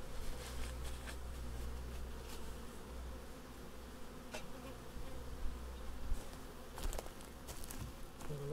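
Bees buzz steadily around a beehive outdoors, a dense, continuous hum of many insects close by with occasional faint ticks and taps and no talking.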